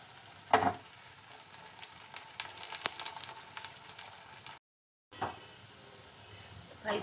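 A Pahadi dish frying in oil on a pan, with a steady soft sizzle and crackle, occasional louder spatters and scraping stirs, a brief dropout near the end.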